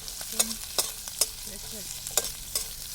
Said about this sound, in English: will be stirring this for a while. We'll fry it for a while.